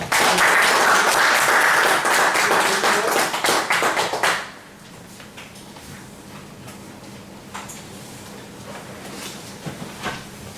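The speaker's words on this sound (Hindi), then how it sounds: "ऐसी जबरदस्त शख्सियत का हम लोग जोरदार ताली से स्वागत करते हैं" Loud, dense applause from a meeting audience welcoming a guest speaker, sustained for about four seconds before stopping abruptly, leaving a quiet room with a few faint taps.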